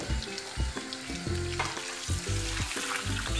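Bulgur grains frying and sizzling in melted fat in a pot for plain bulgur pilaf, with steady loud crackle and a spoon stirring and scraping in bursts through it, no voices.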